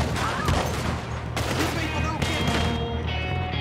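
Gunfire in Red Dead Redemption 2 hits the player as a dense, continuous barrage of overlapping shots and booms, loud and close, with a voice speaking under the fire.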